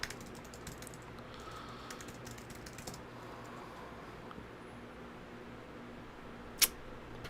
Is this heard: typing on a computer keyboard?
yes